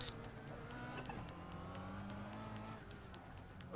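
Touring cars, Kias and Jettas, run at Summit Point in a racing sim, engines droning and shifting pitch as they go past, fairly faint and steady with no talk.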